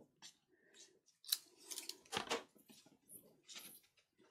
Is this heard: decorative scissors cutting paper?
yes